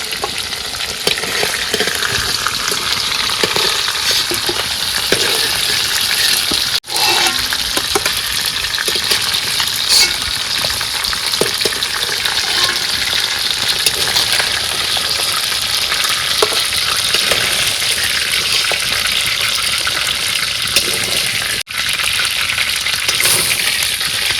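Large kan magur catfish frying in oil, village style, giving a loud, steady, close-up sizzle and crackle that carries on alone, briefly dipping twice.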